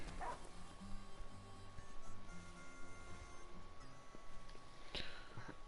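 A dog barks in the video game Final Fantasy XV, a few quick yips over a steady game soundtrack with a sustained tone, followed later by a sharp short cry.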